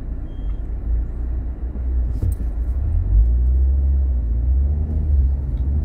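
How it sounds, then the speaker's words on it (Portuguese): Heavy road traffic on a Brazilian highway, a deep continuous rumble of a truck going by close, loud and steady with a brief hiss of air brakes. "senão o caminhão passa por cima de você"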